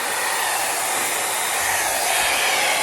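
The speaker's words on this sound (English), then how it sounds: "This is noisier, too, than my other dryer." A new hair blow dryer runs on its low setting, giving off a steady, loud airy whoosh with a constant motor hum throughout, close by and with no voices.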